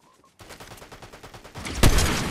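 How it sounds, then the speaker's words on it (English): Gunfire from a Fortnite match, a sniper shot among a quick run of rapid shots with a sharp, loud crack near the end, the sound carrying on in a busy wash of game noise. "Sniped him. I sniped him."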